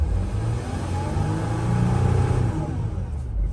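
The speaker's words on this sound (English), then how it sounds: "Let's try to rev it." A 2007 Mercedes Sprinter van engine, recently repaired for a turbocharger fault, rumbles close by, rising as it is revved and then settling back, with no talking.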